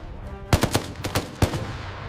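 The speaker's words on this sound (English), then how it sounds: "German soldiers on the ground quickly open fire at the descending paratroopers." Gunfire from German soldiers on the ground, aimed at descending paratroopers over Dutch farmland, sounds as a quick volley of sharp cracks. Two short bursts of several shots each are heard over a low background rumble.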